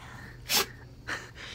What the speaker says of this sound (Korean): 재채기 하지 말랬지.